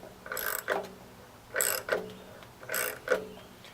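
A bearing puller is turned by hand to free a rusted bearing from a Kenmore 970-c42062-00 washing machine, giving three paired bursts of metallic ratcheting and creaking, close up and moderately quiet.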